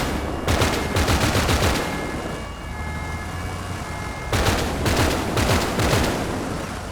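Gunfire in Grand Theft Auto V on FiveM comes in two loud bursts of rapid automatic shots, one at the start and one later, separated by a brief lull with a siren-like tone in the background.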